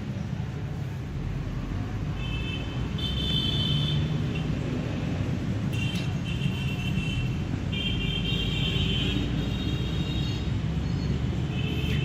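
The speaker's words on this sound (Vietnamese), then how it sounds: "Cuối video sẽ tới tiếng máy nổ nha anh em nha." A 170cc V-twin Harley-style motorcycle engine idles steadily, a low continuous rumble with a dense, even pulse holding at constant loudness, with faint higher whines and clicks coming and going above it.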